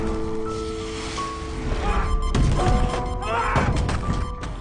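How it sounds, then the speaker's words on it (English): A violent explosive depressurization bursts through a spacecraft airlock on Mars in a film scene: crashing, shattering impacts over a dense roar, with several sharp thuds and a rising hiss-like swell partway through. "as Mark passed through the airlock, it suffered a violent depressurization and explosion"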